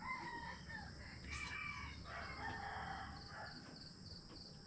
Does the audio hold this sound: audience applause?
no